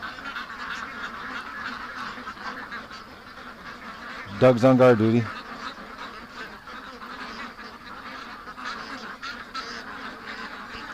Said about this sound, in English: I don't know how he can hear anything over the quacking